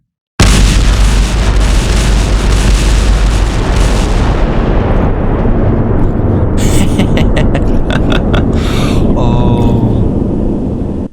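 A coded bomb detonating in Minecraft, a loud sustained roar of blasts that rumbles continuously for about ten seconds, with crackling bursts and falling debris pops near the end, no talk over it.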